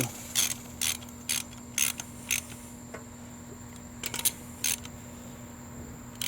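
Ratchet snugging the wheel lug nuts on a Ford Explorer during a brake pad job, heard as short bursts of metallic clicking repeated several times with pauses, close and fairly quiet under a steady low hum.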